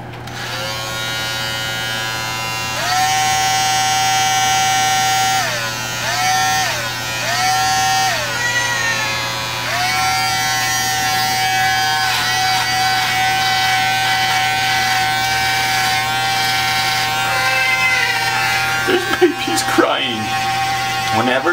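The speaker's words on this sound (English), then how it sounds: "the day has come to shave the beard." An electric shaver hums steadily through a full beard, its buzzing pitch rising and dipping as it presses against the hair, with voices heard near the end.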